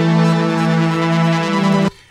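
A sustained synth pad from the Dawn of Rounds preset in Native Instruments Reaktor Rounds holds a rich, steady chord with a bright, airy top, playing loud and alone before cutting off sharply near the end.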